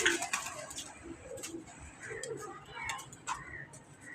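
Soft pigeon coos repeat close by amid faint ticking and rustling; a quiet outdoor setting.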